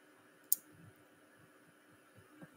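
A computer mouse gives a single sharp click near the start, followed by a few faint soft taps in a quiet room.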